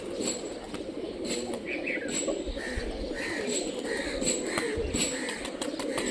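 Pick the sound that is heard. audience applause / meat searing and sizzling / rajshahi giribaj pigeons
rajshahi giribaj pigeons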